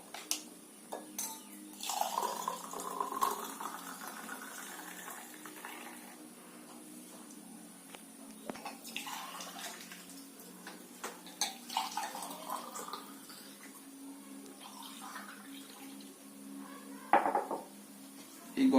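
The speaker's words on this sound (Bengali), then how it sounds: "এবার গরম জল, ফুটন্ত জলটা এর মধ্যে দিয়ে দিচ্ছি।" Boiling water poured from a kettle into a glass of lemon drink, with intermittent splashing, clinks of glass and utensils, and short pours spread across the stretch, fairly faint and close.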